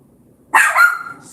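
A single loud, close dog bark that rises sharply and trails off over about a second, alone against a quiet background.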